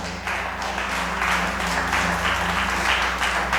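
A church congregation claps in a sustained round, with music or a sustained tone continuing beneath the applause.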